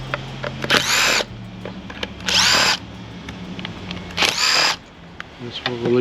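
Power drill backing out the four air box screws on a Yamaha 70 HP outboard's carburetors, with three loud close whirring bursts of about half a second each, separated by quieter pauses.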